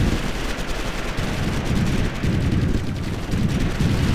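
Dense, loud gunfire rattles without pause in the real-time strategy game Ground Control II, with bursts and blasts piling into one continuous barrage. No one speaks.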